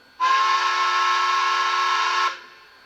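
A Bachmann PRR K4 4-6-2 model steam locomotive sounds its whistle once, a steady, close, loud, bright tone lasting about two seconds before cutting off.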